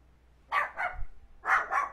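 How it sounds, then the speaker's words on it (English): A female pet dog barks close by in two quick pairs of sharp, loud barks separated by a short pause, against a quiet background. "Sorry, my dog."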